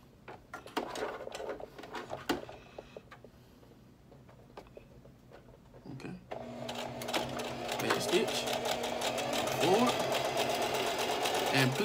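Sewing machine stitching in a zipper with the needle set close to the zipper teeth and no presser foot, starting with light clicks and then whirring steadily and growing louder while a voice talks over it.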